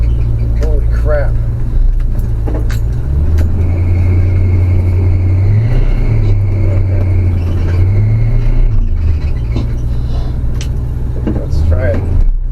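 A Chevy small block engine with a new carburetor and fuel pump rumbles loudly and steadily in a C10 muscle truck, with the pitch rising and falling as it revs. Someone talks over the engine.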